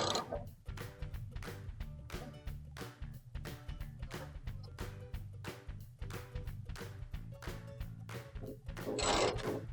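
A ratchet tightens the gas orifices on a Whirlpool range, giving a rapid, even run of close clicking that ends in a brief metallic rattle.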